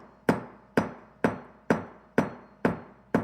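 Light hammer taps flattening wire on a hard surface while shaping a square spiral meander, seven evenly spaced sharp metallic strikes with short ringing decays, close and clear with no talking.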